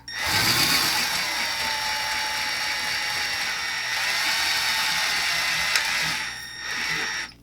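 A power drill boring through a Starbucks tumbler whirs steadily for several seconds, a high grinding drone that wavers slightly before winding down and revving once more.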